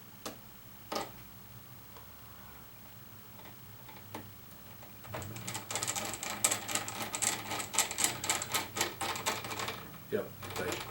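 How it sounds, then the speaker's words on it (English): Small screws being driven into a Keurig K60 coffee maker that doesn't pump, heard as sparse ticks at first and then a dense run of rapid clicking and ratcheting in the second half. "Based on the resistance I'm getting from putting little screws in the hole there"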